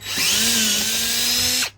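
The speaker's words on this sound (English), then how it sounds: "so you want to drill a hole in the wing" A power drill bores a hole in the wing of a Vauxhall Corsa while fitting side skirts, a loud, close, steady whine lasting under two seconds that stops abruptly.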